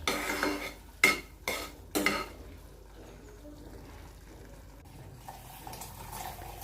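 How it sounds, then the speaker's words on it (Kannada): A spoon scrapes and stirs through thick chana gravy with masala and salt in a pan, three or four distinct sweeps up front, then softer mixing and a faint sizzle, close by. "ಸೊ ಈಗ ಇದು ಸ್ವಲ್ಪ ಮಿಕ್ಸ್ ಮಾಡ್ಕೊಳ್ಳೋಣ ಎಲ್ಲನೂ"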